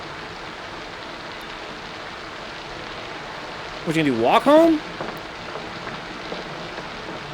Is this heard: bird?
no